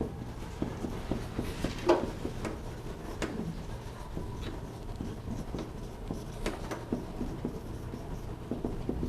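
Pen or pencil scratches across paper in short, irregular strokes and taps, close and fairly quiet, with no voices.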